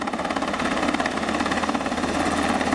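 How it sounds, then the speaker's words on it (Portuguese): Army helicopter flying over a search area, a loud steady engine whine with rapid rhythmic rotor thumping pulsing throughout. "Um helicóptero do Exército ajudou nas buscas e sobrevoou o local onde o grupo desapareceu"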